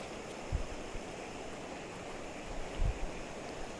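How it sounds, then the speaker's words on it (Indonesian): Water flows in a village at night, a low steady rushing wash that carries on throughout, with two soft thumps partway through. "Suara air."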